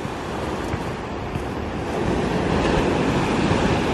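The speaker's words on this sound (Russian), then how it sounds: "А Кирилл прям так и ждет, пока его волна накроет." Sea surf roars steadily during a small storm at Kobuleti, swelling louder midway as waves break on the shore, with wind buffeting the microphone.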